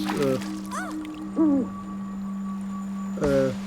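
Owl in the game Never Alone gives several short, wavering hoots spaced apart, sounding over a steady low hum and faint watery trickling.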